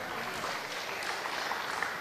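Quiet, dense applause from an audience at an academic seminar of Universitas Terbuka in Serang, a continuous patter of many hands heard from some distance.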